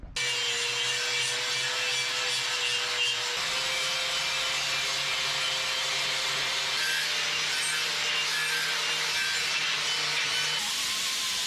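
A flap disc grinds steadily over welded metal on a 1961 Chevrolet Parkwood wagon's suspension arms, a loud continuous abrasive whir that holds its pitch with slight shifts as pressure changes.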